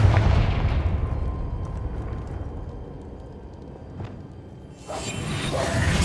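Fire and blast spells are cast in Hogwarts Legacy, Incendio and Confringo, heard as deep rumbling booms and whooshing bursts that fade into a lull before a fresh bright crackling blast near the end, with no voices.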